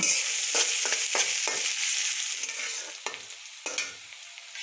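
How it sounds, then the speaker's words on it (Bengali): Onions frying in a pan while being stirred, with a steady close sizzle broken by repeated scraping strokes of the spoon at a loose, irregular rhythm. "পেঁয়াজটা ভালোভাবে ভাজা হয়ে গেছে"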